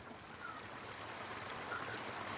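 Flowing water with foam on the surface, a faint, steady trickling stream with soft gurgles running on without a break.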